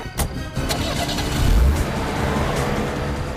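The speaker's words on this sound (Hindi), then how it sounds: "गाड़ी तेज चलाओ पंकज, और तेज" A car speeds along in a tense police chase in a CID crime drama, its engine a loud, steady mid-range roar that swells around the middle and holds throughout, with no talk over it.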